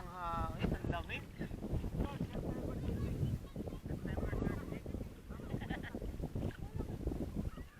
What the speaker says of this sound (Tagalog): lakas ng hangin. Ang lamig.